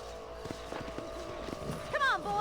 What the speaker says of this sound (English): Então, vamos lá montar um cavalo